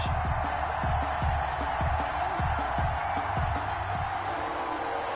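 Stadium crowd at an NFL video game match between the Colts and Jaguars, a steady loud roar of cheering that carries on throughout, with a repeating low thumping pattern under the first part.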